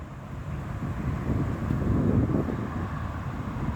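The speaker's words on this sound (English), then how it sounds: "Little tiny bit of wind." Light wind blowing outdoors on a warm, mild day, a steady soft rushing with low rumble that swells slightly midway and stays constant throughout, no voices present.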